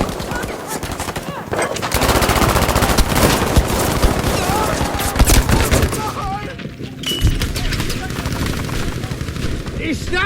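Submachine guns, including the M1928A1 and Suomi KP/31, fire in a video game battle. Rapid automatic bursts run almost continuously and loudly, with brief pauses and shouted voices between volleys.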